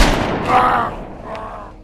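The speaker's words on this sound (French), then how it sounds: "elle leva son arme et abattit l'agresseur à bout portant" A pistol shot fired at point-blank range in a French spy audio drama, one sharp loud blast with a booming tail that decays over the next second or so, heard alone without speech.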